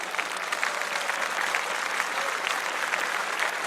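Steady applause from a small group, continuous hand clapping filling the whole stretch at an even level with no talk over it.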